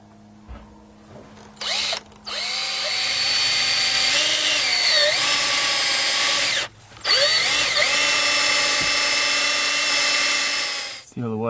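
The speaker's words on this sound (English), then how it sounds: "So unfortunately, drill another hole in the boat." A power drill bores a drain hole through a boat hull, whirring loud and close in several bursts that rise and fall in pitch as it bites, with short pauses between.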